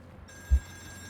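A telephone rings once inside a Kannada-commented video game, a brief muffled bell burst standing out against a steady low background hum.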